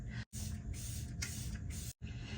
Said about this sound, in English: I have a setting spray from Say.